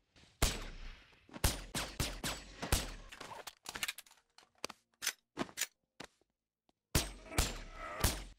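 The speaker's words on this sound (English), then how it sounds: "It also includes the battle rifle. Oh, how good's that three burst sound?" A battle rifle in a Boneworks virtual reality mod fires loud, close, sharp gunshots, some in quick bursts, with brief pauses between volleys and no talking.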